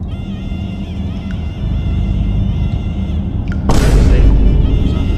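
A Stage 1 Jeep Trackhawk roars loudly and continuously as it accelerates hard on a quarter-mile run. The engine builds steadily, then a sharp, louder surge hits near the end as it shifts.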